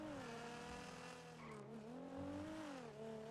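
A taxi's loud engine in a GTA roleplay game drones steadily with rising and falling pitch as it revs, and faint tire noise alongside.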